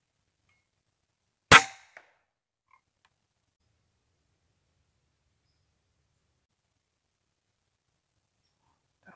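Airgun shot at a squirrel in the Minnesota woods: a single sharp crack followed by a faint knock, then near silence, close and alone without voices.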